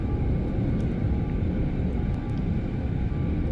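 An airplane engine in the Aviassembly video game runs with a steady, loud droning rumble that holds constant throughout, with no speech.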